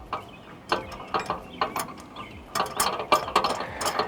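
A lock being fitted to a 1UP-USA bike rack in a Jeep's trailer hitch, a series of short metallic clicks and ratcheting rattles, close and fairly loud.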